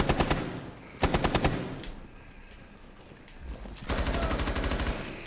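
Automatic gunfire in a Rainbow Six Siege firefight, with two loud rapid bursts near the start and a longer sustained burst near the end, separated by quieter ambient game noise.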